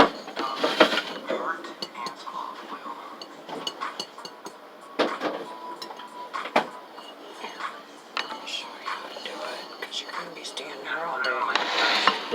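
Eggs and milk are whisked together in a bowl for French toast, making irregular clinking and tapping of the whisk against the bowl with scattered sharper knocks. Quiet speech runs alongside.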